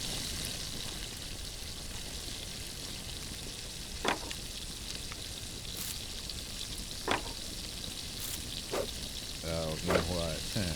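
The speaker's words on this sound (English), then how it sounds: "Now we will also start that boiling." A pot boils over a campfire in the video game Last Plague Blight, a soft steady bubbling sizzle running throughout, broken by a few sharp clicks and with a brief fluttering sound near the end.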